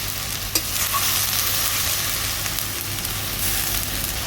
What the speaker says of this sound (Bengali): এবার দিয়ে দেবো কুড়ে রাখা আদাটা। পেঁয়াজটাকে হালকা নেড়ে চেড়ে নিচ্ছি।